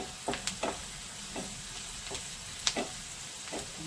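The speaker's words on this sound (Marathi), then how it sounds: "कांदा पण आता चांगला परतून झालाय, कांदा लसूण" Onion and garlic with asafoetida frying in a pan for dhaba-style curd bhindi, a steady soft sizzle with a few sharp spoon scrapes and clinks against the pan, no talking.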